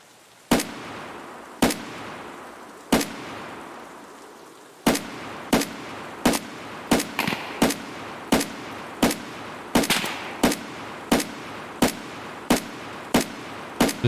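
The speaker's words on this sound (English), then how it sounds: "Just keep shooting until he's dead." Gunfire in Raid Season 5: sharp single shots, sparse at first and then falling into a fairly regular rapid rhythm, each crack loud and close with a short decay, no speech.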